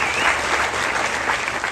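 Audience at an alligator and crocodile park applauding, a brief burst of dense clapping that stays loud throughout.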